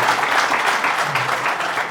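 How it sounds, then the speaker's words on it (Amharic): An audience at a business training session applauds a question with steady, fairly loud clapping that continues evenly from start to finish. "በነገራችን ላይ ለዚህ ጥያቄ አጨብጭቡለት።"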